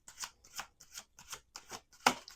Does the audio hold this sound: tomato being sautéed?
no